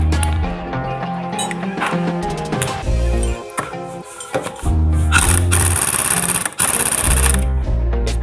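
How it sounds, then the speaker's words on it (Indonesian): Pneumatic impact wrench tightening the CVT nut on a Honda Beat FI scooter, loud rattling hammering bursts with brief pauses between them, close by, with no talk. "Kita pakai impact di sini."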